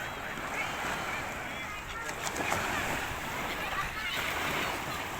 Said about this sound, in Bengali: যার কারণে ঢেউয়ের একটা আওয়াজ আসছে